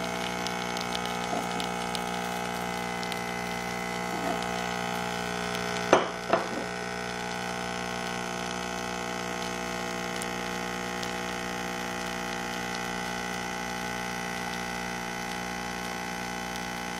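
A Nespresso U milk D50 espresso maker pumps coffee into a mug with a steady, buzzing pump hum. A couple of sharp clicks and knocks come midway, and no one speaks.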